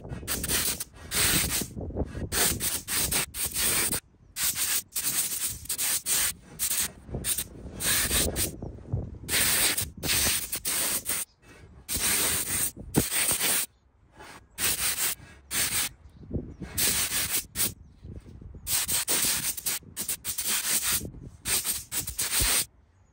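Steady hissing of a paint spray gun with thinned paint in repeated bursts with short pauses between passes, fairly close and loud, with no talking.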